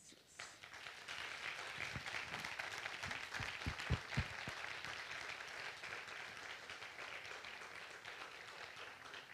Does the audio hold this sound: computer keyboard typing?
no